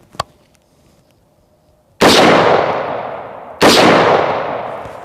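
A 7.62x51mm (.308) rifle fires at AR500 steel body armor. There are two loud, sharp shots about a second and a half apart, each with a long decaying echo, after a small click at the start.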